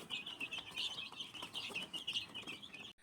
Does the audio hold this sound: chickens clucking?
yes